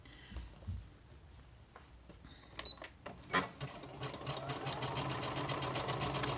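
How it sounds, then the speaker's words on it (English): A sewing machine zigzag-stitches fabric with khaki thread for a journal cover, starting with a few scattered clicks and handling sounds before settling into a steady close whirring run. "I'm using a zigzag stitch. All right, and I'm just using the thread that I've been using the whole time."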